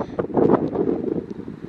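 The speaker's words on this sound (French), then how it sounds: "il y a énormément de vent." Strong gusts buffet a microphone outdoors on a family road trip in the United States, producing a loud, low, rumbling roar that swells and fades over a short stretch, with no talking.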